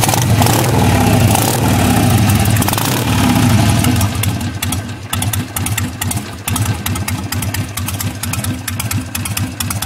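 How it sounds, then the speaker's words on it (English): A 2006 Harley-Davidson Sportster 883 idles slightly low while cold, its loping, uneven V-twin putter heard up close and loud, the beat turning more ragged and choppy midway through. "this one's idling a little low, maybe still a little cold"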